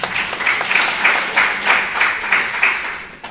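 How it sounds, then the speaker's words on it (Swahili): An audience at a Kenyan entertainment event applauds loudly and steadily for about three seconds, with rhythmic clapping that fades toward the end. "tupigie waelimu makofi tafadhali"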